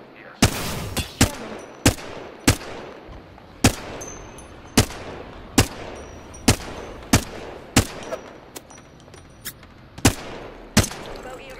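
Gunfire while under fire in the Apex Legends video game: a dozen sharp, loud single shots at a fairly even, spaced rhythm over a low background rumble, no talk.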